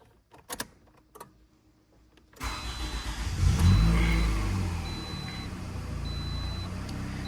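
A Toyota car, a RAV4 or Camry, cranks and starts after a few faint clicks, its engine rising to a brief rev, then settling into a steady close idle.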